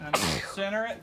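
A single sharp sneeze bursts out near the start, close and loud, followed right after by a person speaking.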